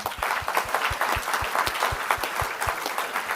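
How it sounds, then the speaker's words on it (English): Steady applause from a ceremony audience at the Queensland Australian of the Year Awards, with dense overlapping claps filling the room and a low regular thump pulsing underneath throughout. "keep that applause going for our nominees for Young Australian of the Year"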